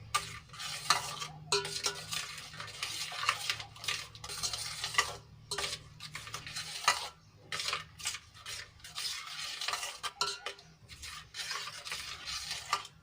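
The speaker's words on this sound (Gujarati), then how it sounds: "તો આ રીતે હલાવીને આપણે સાબુને સારી રીતે ઓગાળી લઈશું" A utensil stirs soap dissolving in liquid for homemade dishwashing liquid made with salt and vinegar, giving repeated rhythmic scraping and rubbing strokes against the container, close and moderately loud, with brief pauses between bursts.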